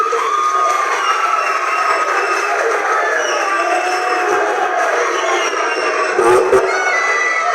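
A ceremony crowd applauds and cheers at a third-place school match event, a steady, loud wash of clapping and crowd noise that holds throughout, with a brief louder swell near the end.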